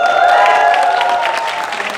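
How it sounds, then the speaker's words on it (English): Audience clapping and cheering for a guest on a talk stage, a steady burst of applause mixed with a few sustained whistles or shouts, close and loud. "Let's hear a round of applause."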